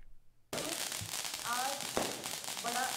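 Fireworks go off at a celebration welcoming a prime minister and his wife in Ayodhya, India, a dense continuous crackle and popping with a louder burst near the middle, steady and close.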